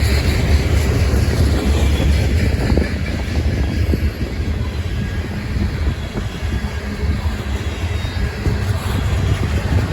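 A freight train with a GP38-2 yard engine among its power rolls past in Northwood, Ohio, a loud, steady low rumble with wheel clatter that holds for the whole stretch.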